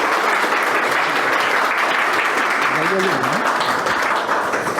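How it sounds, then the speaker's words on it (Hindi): A seated audience at a business seminar bursts into loud, continuous applause that stays strong throughout, with a brief voice rising faintly beneath the clapping partway through. "इन्वाइट करूँगा जोरदार ताली के साथ"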